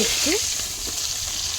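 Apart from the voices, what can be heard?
rohu fish frying in oil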